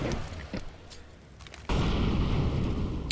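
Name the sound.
flashbang grenade going off in video game CS:GO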